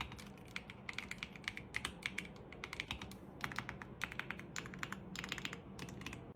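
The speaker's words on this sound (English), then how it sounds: "Right now, let me type something for you." A purple mechanical keyboard is typed on nearby: quick, crisp clicky keystrokes come in rapid bursts with short pauses between runs, alone with no voices.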